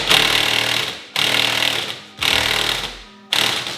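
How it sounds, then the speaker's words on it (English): An impact wrench hammers axle nuts onto a GR Corolla in three loud bursts, each roughly a second long, separated by short pauses, then a fourth burst begins. "Axle nuts on."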